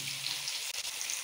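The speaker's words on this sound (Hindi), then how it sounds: "अब इस यहाँ पर एक भगोना यहाँ पर मैं पानी डाल दे रही हूँ।" Water poured from a vessel into a cooking pot while making Bengali khichdi: a brief, continuous hissing splash, close and fairly soft, with no talk.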